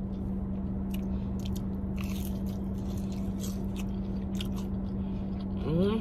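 Crunchy bites into crispy fried Cheesecake Factory Buffalo Blast, close to the mic with a steady background hum and no talking; the crunching stays fairly soft.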